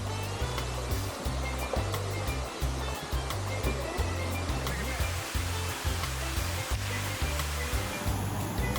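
Twin Falls on Maui's Road to Hana pours in a continuous rushing roar of falling water, dense and steady throughout with faint low thumps beneath, no voices heard.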